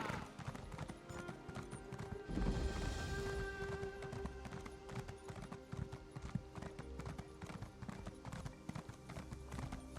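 Horse hooves clip-clop steadily in The Elder Scrolls Online game, a busy rhythmic patter of footfalls layered over ambient game sounds and music, with occasional louder bursts.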